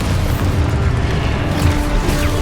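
An Expulso spell explodes in the Hogwarts Legacy video game as a dense, continuous rumbling blast with a heavy low-end boom that fills the whole moment at steady loudness.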